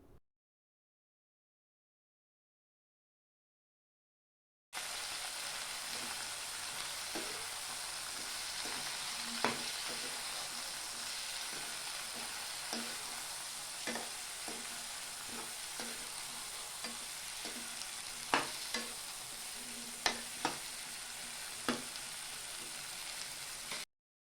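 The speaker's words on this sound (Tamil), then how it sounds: "கத்திரிக்காய் சேர்த்து வெங்காயம் தக்காளியோட பரட்டி விட்டுட்டு" Steady sizzling of eggplant frying in a pan with onion and tomato, with scattered sharp clicks and scrapes of stirring; silent for the first few seconds.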